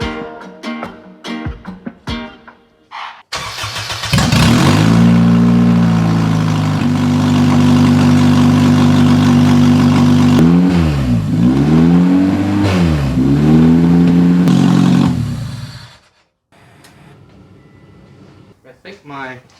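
Honda CR-V with a K-swap engine running loud while the power steering is bled: a speaker talks first, then the engine starts and holds a strong steady drone with two rising-and-falling revs before shutting off, followed by quiet talk.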